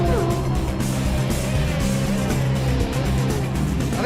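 Road racing motorcycles at the North West 200 streaming line astern through fast kinks, a steady loud engine drone with high whining notes weaving through.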